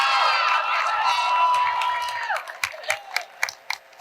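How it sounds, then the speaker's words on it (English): Audience applause and cheering for a returning fifth-year honoree at the Ball State 2024 Chirpies awards, starting loud over a whooping voice, then fading into scattered individual claps. "Round of applause for Hannah coming back for her 5th year."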